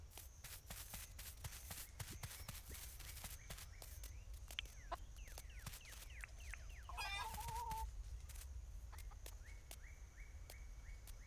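Chickens clucking in the farming video game Dinkum, a brief burst of clucks midway through amid scattered game footsteps and ambient effects.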